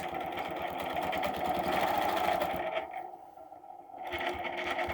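Sewing machine stitching straight across fabric, a rapid buzzing whir that runs steadily, stops for about a second, then starts again, close and fairly quiet.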